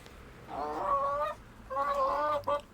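Chickens cluck in a snowbound coop in two short bursts of overlapping calls, fairly close, with a quiet pause between them.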